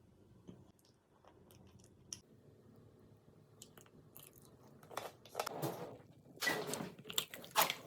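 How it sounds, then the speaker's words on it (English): Frozen corn syrup jelly is squeezed close to the microphone, starting as faint crinkles and soft clicks and building toward the end into louder wet, crunchy squishes. "So we're just going to squeeze it and have a little whisk."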